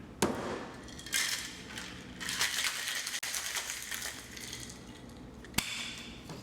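A cocktail shaker holding ice and white rum for a Mai Tai is shaken, giving a steady, close rattle of ice with a few sharper knocks at the start and end.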